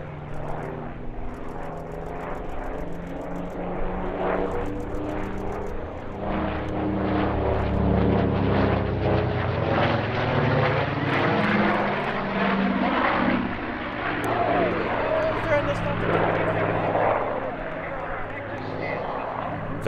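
A Grumman F7F Tigercat warbird flying past at an airshow, its piston engines and propellers droning loudly, swelling as it nears and fading away over about twenty seconds.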